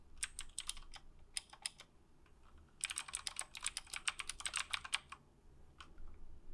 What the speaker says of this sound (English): That's the keyboard. This has the clickies, as I mentioned.